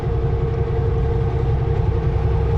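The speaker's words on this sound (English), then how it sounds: "Canadian Pacific coal train 9714." A Canadian Pacific coal train passes close by, giving a steady, loud low rumble with a continuous engine drone and no pauses.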